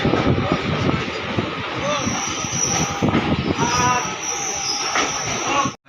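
Train 13417 from Asansol to Malda pulls into platform three at Rampurhat station with a broad, continuous rumble and a thin high squeal, loud and close, before cutting off abruptly at the end.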